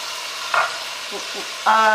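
Beef for a stir fry with broccoli, snow peas and scallions sizzles steadily in a hot pan, a continuous close frying hiss with brief louder flare-ups and a sharp metallic clink near the end.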